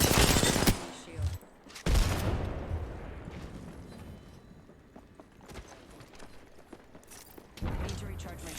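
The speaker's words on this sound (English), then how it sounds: "Getting shot at." Automatic gunfire in the Apex Legends video game: a loud burst of shots opens, then a second volley, then quieter scattered shots and game effects, with another burst near the end.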